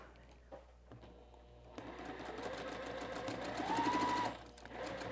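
A sewing machine stitches quilt seams a quarter inch from the edge for a summer sew-along, its rapid motor-driven needle running steadily and close, rising in pitch and speed mid-run before easing off, with no talking.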